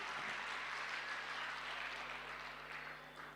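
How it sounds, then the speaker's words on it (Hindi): Applause from the crowd at a Hindi poetry gathering for the poets, a steady wash of many hands clapping that carries on evenly and tapers slightly near the end. "आपकी तालियां बजें"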